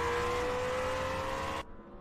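Ferrari 488 GTB race car with a 3.9-litre twin-turbo V8 in an anime street race, a loud steady engine roar holding for about a second and a half before cutting off abruptly.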